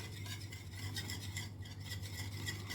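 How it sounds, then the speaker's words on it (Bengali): Sour yogurt (curd) being whisked in a bowl for kadhi pakora, a rapid, even rhythmic swishing and scraping that continues throughout at low volume. "টক দই খুব ভালো করে কিন্তু এটা ফেটিয়ে নিতে হবে"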